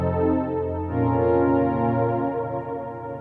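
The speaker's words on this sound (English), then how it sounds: "I found this pad sound called Simple Pad" The Simple Pad preset from the Arturia CMI V synth plugin plays a smooth, sustained pad of held chords that shifts once, rich in harmonics and steady in level, heard alone.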